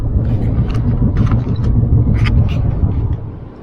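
A car cruises along a highway toward Flagstaff, Arizona, its steady engine and road rumble loud and close inside the cabin, with a few brief higher clicks or rattles over the drone.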